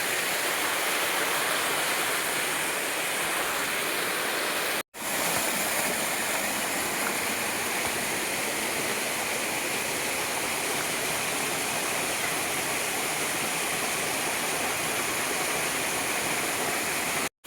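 Steady roar of a waterfall pouring onto rocks during an outdoor outing. A loud, continuous broadband rush fills the whole clip with no voices, broken only by two brief cuts.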